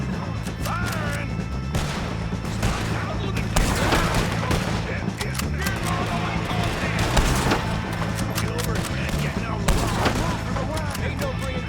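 Video game gunfight with heavy, sustained volleys of gunshots and scattered impacts throughout, loud and busy, as voices shout in the middle of the shooting.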